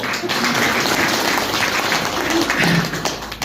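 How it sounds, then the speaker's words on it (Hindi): Audience clapping at a spiritual gathering, a dense, steady patter of many hands sustained throughout at fairly even loudness, with faint voices mixed underneath. "अब ज्यादा तालियां बजिए।"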